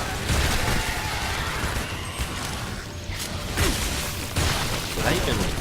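Bursts of explosions and booms in the Shadow Warrior video game, several heavy blasts and whooshes piling up in chaotic succession, with someone talking over them.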